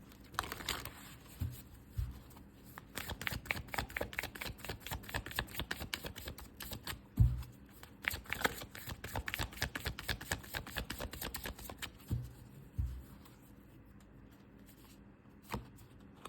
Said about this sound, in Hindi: एक बार यहाँ से भी 3 कार्ड हम निकालेंगे।